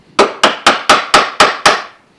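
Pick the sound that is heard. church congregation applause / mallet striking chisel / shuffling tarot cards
mallet striking chisel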